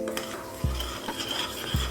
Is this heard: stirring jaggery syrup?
yes